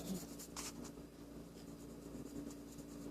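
Pencil colouring in a fashion-girl colouring book, a steady close scratchy rasp of graphite on paper with a few brighter strokes, continuous and moderately quiet, with no voices.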